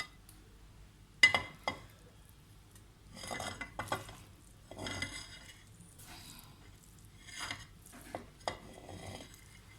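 Aloo matar pulao made with thick rice being served out of a pot into a dish: scattered metal spoon scrapes and clinks against the cookware, in bursts with short pauses between, fairly close and moderately quiet, with no talking.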